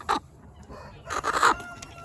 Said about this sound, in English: This is a silver lace Brahma.